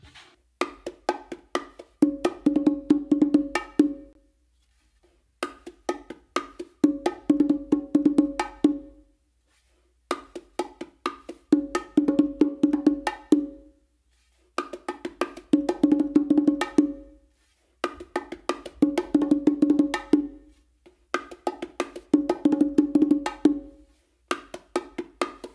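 Bongo combination pattern played together with the martillo, close and alone: repeated phrases of rapid, crisp drum strokes, each lasting about three seconds, separated by short silences, in an even cycling rhythm.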